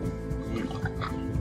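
Creek water glugs and trickles into a container close by, with a steady bubbling and dripping fill and no talk over it.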